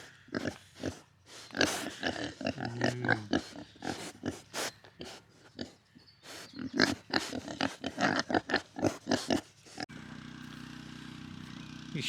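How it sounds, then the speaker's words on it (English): Pigs on a farm grunting and snorting in rapid bursts of short, rough oinks close by, irregular and busy, fading to quieter background noise at the end. "Oh, I love pigs in the farm."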